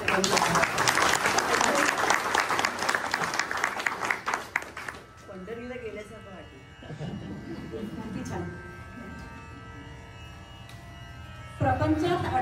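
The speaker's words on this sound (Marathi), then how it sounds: "परत एकदा छान जोरदार टाळ्या वाजवा बरं" An audience at a Marathi devotional saint-song concert bursts into loud, sustained applause, which fades after a few seconds into quieter sustained musical tones.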